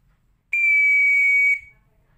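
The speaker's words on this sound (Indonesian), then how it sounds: "untuk memanggil anggota regu dengan tiupan peluit" One long, loud, clear blast of a scout whistle, used to call troop members to the field beside the flagpole, lasts about a second in quiet surroundings.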